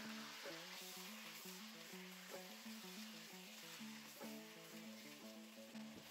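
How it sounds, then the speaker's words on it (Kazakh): Mutton hisses as it fries in hot oil in a cauldron, a soft steady sizzle running underneath a quiet melodic background tune with repeated low notes. "май қызған соң үстіне етімізді салып"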